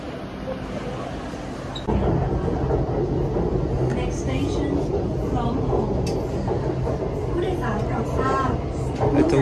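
Elevated metro train in Bangkok: a steady rumbling rail roar that swells after the first two seconds and runs continuously, with faint squeals and rattles, heard from aboard or close by.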